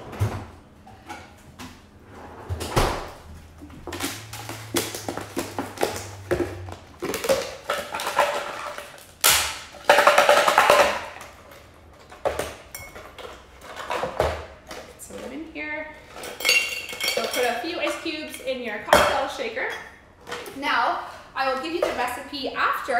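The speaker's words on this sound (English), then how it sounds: "So I have my cocktail shaker. I have some ice cubes after grabbing from the freezer." Ice cubes taken from a freezer clatter and rattle in a cocktail shaker in irregular bursts that build toward a vigorous shaking near the end, while someone talks over much of it.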